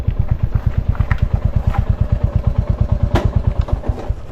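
A motorcycle idles at a road check post, its engine thumping in a quick, even, loud pulse close by, with a brief clatter partway through and no talk.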